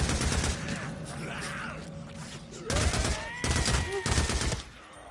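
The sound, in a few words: MG55 machine gun firing at horde, video game Days Gone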